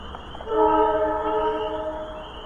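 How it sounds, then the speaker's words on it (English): A passing train sounds its horn, a loud sustained multi-tone blast swelling in after a brief quiet start and holding steady, heard outdoors in New York. "You hear that train?"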